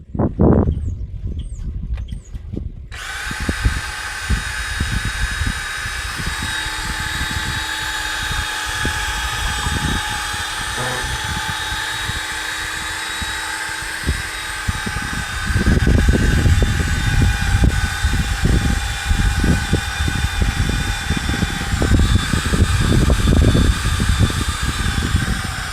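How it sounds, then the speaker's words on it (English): A power drill stirs liquid while an electrolysis tank for cast iron cookware is being built. The motor whirs steadily and loudly up close for over twenty seconds, with a rougher churning surge in the later part. "I put this on my drill and I just kind of stir it up"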